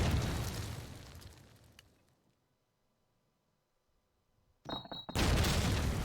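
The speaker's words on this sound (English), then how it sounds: "Nades landing near Danez, but just on the wrong side of those ruins" Grenade blasts in a competitive multiplayer shooter match: a loud burst of explosions trails off into near silence, then two more heavy booms erupt at the end, alone with no talk.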